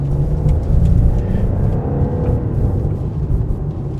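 Interior of a 2026 Genesis GV70 Sport SUV merging into traffic: a steady, loud low engine and road rumble that swells briefly as the SUV accelerates, then holds as a continuous drone, with no talking.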